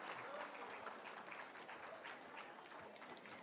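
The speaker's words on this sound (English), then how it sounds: "Let's have the claps going round the corner." An audience at a school awards assembly claps together in a brief, steady burst of applause, moderately distant and continuous for the whole few seconds.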